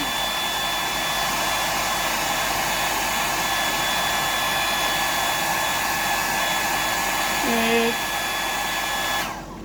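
A hair dryer blasts steadily up close to dry the coating on a fly-tying pattern, a loud continuous whooshing roar with a brief tonal blip near the end before it cuts off.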